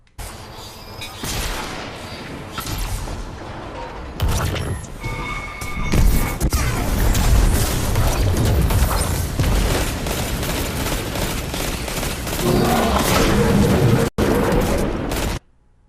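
Tractor Cannon firing in Destiny 2, a few heavy blasts followed by a long stretch of loud, churning combat noise with repeated impacts, ending in a sharp cut to near silence.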